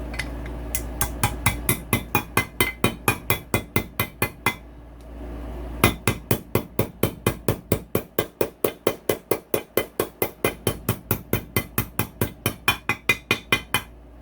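A hammer taps a bearing into a KTM 85SX engine case in a fast, steady series of sharp clinks, pausing briefly before resuming with many more evenly spaced strikes.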